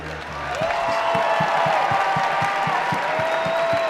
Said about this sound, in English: So if y'all could please just join me in a round of applause to appreciate these guys here.